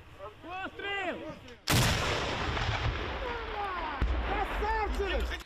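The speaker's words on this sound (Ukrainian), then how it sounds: "бійці б'ють артилерією та кулеметами" Loud booming artillery fire erupts after a short stretch of chirping birds, with a second sharp report later and birdsong continuing underneath.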